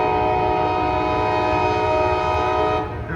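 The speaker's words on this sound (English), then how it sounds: "But we got a train coming now." A coal train rumbles past loud and close while its horn sounds a sustained, steady blast that cuts off near the end, with the rolling rail noise continuing beneath.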